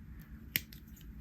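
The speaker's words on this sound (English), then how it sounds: "I'm going to start trimming all of the leather cord ends here." Scissors snip through a leather cord end while braided leather earrings are being made, one sharp close cut standing out against quiet room noise.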